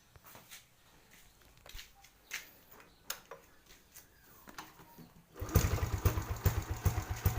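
A motorcycle engine with its stock silencer fitted, heard before a power pipe install: quiet ticking and clicks at first, then a louder, close idle with a rapid rhythmic putter.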